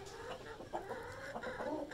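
Desi aseel mixed hens clucking in a backyard coop, a steady run of close, overlapping clucks and short squawks with no talking.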